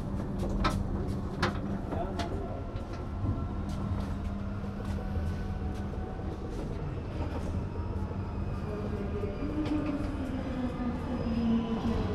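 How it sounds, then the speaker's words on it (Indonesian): The Argo Dwipangga passenger train pulls into Tugu station in Yogyakarta with a steady rumble of rolling wheels and carriage noise. Faint squeals and clunks rise over the continuous din. "perjalanan kereta api Argo Dwi Pangga tiba di stasiun Tugu, Yogyakarta"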